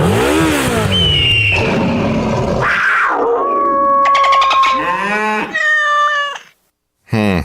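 Motorcycle riding sound effect in a Progressive motorcycle insurance radio ad, produced vocally with growling revs, whines and yowls that sound more like a caterwauling cat than an engine, loud and up close, ending in a brief silence and a final burst.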